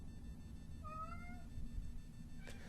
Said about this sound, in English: My cat's being really loud.